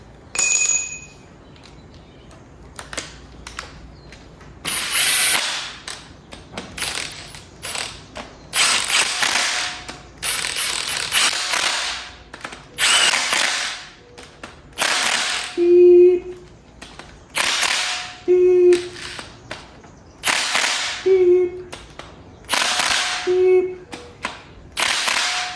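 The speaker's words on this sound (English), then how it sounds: "Alright, get my torque gun." A torque gun tightens cam bolts on a 5.3L truck engine, producing a series of loud, close ratcheting bursts separated by brief pauses, with higher whirring tones in some of the later pulses and no talk.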